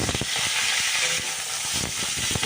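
Cauliflower florets frying in refined white oil give a steady, close sizzle and hiss, with small irregular pops and crackles scattered throughout and no talking.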